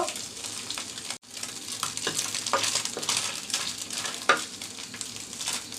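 Small mola fish frying crisp in hot oil, a steady close crackling sizzle with brief stirring scrapes and a short clink.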